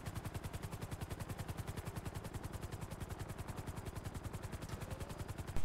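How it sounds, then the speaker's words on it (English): Rapid, continuous automatic gunfire rattles without a break in the game GTA V, a dense, even stream of shots that is loud and steady throughout and ends in a heavier burst. "Do you hear random explosions going off?"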